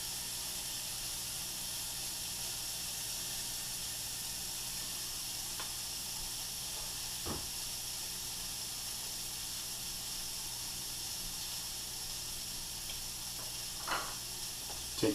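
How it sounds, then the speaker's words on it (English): Butter sizzles in a hot pan while an omelette breakfast is being made, a steady faint hiss running throughout with a few soft clicks and clatters, no voices. "Throw some butter in my pan."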